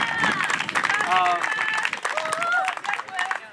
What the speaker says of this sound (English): We could give them a round of applause.